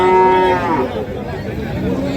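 A red Sahiwal bull at a cattle market gives a loud, close, drawn-out moo lasting about two seconds, with faint market background behind it.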